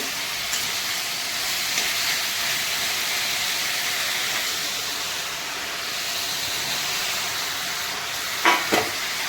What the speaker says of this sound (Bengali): চিকেনটা দিয়ে আমি এবার আবার হালকা করে ভাজবো দু তিন মিনিট ভাজবো